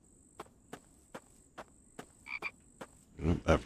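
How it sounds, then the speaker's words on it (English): A frog croaks in a Minecraft modpack, The Infected, with sharp evenly spaced clicks over a steady insect-like trill, followed by a louder burst of croaking and shuffling near the end. "That frog is throwing me off again."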